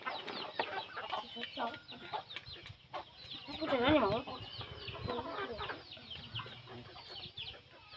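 Chickens clucking on a farm amid other rustic activity, the clucks repeating irregularly at moderate distance with a brief louder burst of calls midway and steady background noise throughout.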